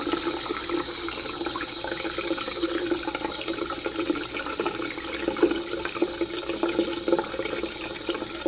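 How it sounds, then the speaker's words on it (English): Tap water runs into a sink as it is rinsed out after tie-dyeing, a steady close hiss of flowing water with small splashes and clinks scattered throughout and no talking. "rinse my sink"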